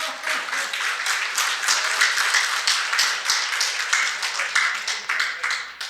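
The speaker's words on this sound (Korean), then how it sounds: "안 살 것 같으면 박수 부탁합니다." An audience at a lecture hall talk claps in a loud, rhythmic burst of many hands, the claps falling in a fairly regular beat throughout with no speech over them.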